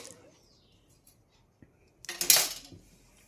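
Scissors cut blouse fabric along a chalk marking at the shoulder slope, giving a short burst of crisp snipping and rustling near the end after a mostly quiet stretch.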